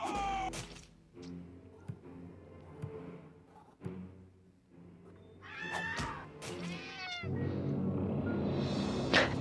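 Cat meows from the Friday the 13th killer puzzle game sound several times amid game clatter and thuds, rising into louder wailing near the end.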